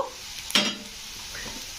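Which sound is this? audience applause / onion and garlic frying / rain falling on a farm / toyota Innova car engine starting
onion and garlic frying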